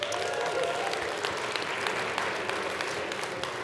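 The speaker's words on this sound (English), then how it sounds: "let's give them a big round of applause" Steady, sustained applause from an audience at a winter speaker event for a mountaineering talk, a dense wash of many hands clapping at moderate distance that holds level throughout.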